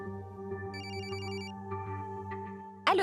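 Mobile phone ringtone playing a repeating electronic melody, steady and fairly loud in a quiet room, with no talking, ending in a brief sharper burst.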